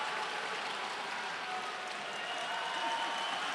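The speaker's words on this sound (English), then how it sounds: "You can hear the crowd here." A judo championship arena crowd keeps up a distant, steady wash of cheering and clapping, fairly faint and even throughout with no single burst standing out.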